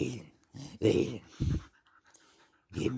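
A dog pants and whimpers in several short bursts close by, with quiet gaps between them.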